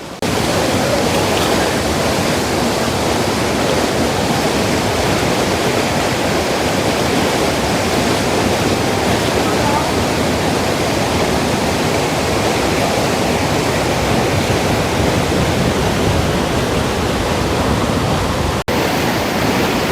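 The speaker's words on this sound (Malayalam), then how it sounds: "നല്ല വലിയ വെള്ളച്ചാട്ടമാണ്" A large waterfall at Seetharkundu, swollen after rain, roars loud and constant, a dense rushing wash of water that never lets up.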